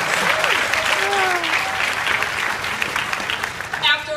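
A crowd applauds steadily at a graduation speech, a dense wash of clapping with some whoops and a voice briefly audible over it toward the end.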